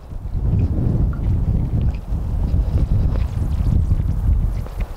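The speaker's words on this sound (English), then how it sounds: "Oh, we got a little wind." Strong wind gusts buffet the microphone at an outdoor shooting range, a steady, loud low roar that swells and dips without pause for the whole stretch, with no other sounds standing out.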